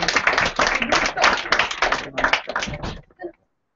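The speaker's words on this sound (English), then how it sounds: "Thank you very much for listening." Audience applause for a comedian leaving the stage at a stand-up show, a sustained burst of many hands clapping that fades out after about three seconds.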